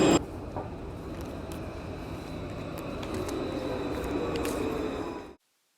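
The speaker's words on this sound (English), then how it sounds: "Half an hour by tram from Santa Cruz to Trinidad." Riding a tram between Santa Cruz and La Trinidad on Tenerife, a steady rolling rumble and hum fills the cabin with faint rattles and clicks, building slightly before stopping abruptly.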